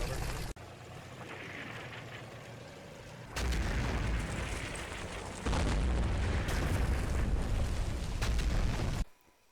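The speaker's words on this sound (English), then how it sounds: "In the centre, artillery hit the woods objective." An artillery barrage strikes a wooded objective in the wartime strategy game Combat Mission Fortress Italy, heard as a dense, loud rumble of overlapping blasts that swells in stages and then cuts off abruptly, with no talking.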